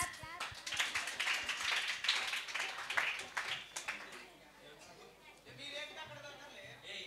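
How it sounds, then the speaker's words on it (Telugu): A short burst of hand clapping from a group, loud at first and then fading, with voices talking over and after it. "క్లాప్స్."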